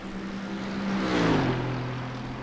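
Race car engine at Monza in the iRacing video game, a loud sustained drone with a rising and falling pitch sweep as the car passes close by, no talk.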